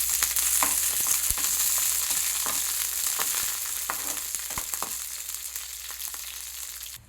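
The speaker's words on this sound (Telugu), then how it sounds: "ఆయిల్లో ఫ్రై చేస్తున్నాను." Nine small green chillies fry in hot oil in a home kitchen, giving a steady close sizzle with occasional crackles and stirring clicks, gradually easing toward the end.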